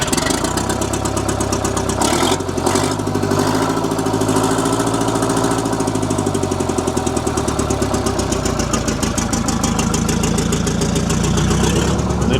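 A 471 Jimmy diesel engine running on a scraper, a loud, close, steady rhythmic chugging idle that shifts slightly in pitch early on.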